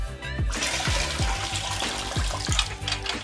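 Water emptying from the pulled-out drip tray of an Avalon bottleless water dispenser, a steady close splashing and trickling stream running continuously under a low background hum.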